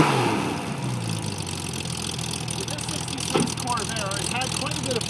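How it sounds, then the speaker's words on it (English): A 1966 Chevy Corvair Monza convertible's air-cooled 140 hp six-cylinder engine runs steadily throughout, a close, loud, even idle with a rough, throaty drone and one brief sharper knock midway. "I'm just going to turn the key here, and you should be able to hear it fire up."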